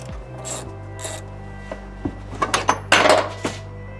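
A screw is undone on an Audi 2.7 Bi-Turbo seat. It sounds like close, intermittent scraping and rasping bursts of metal and plastic, growing busier toward the end, with no talking.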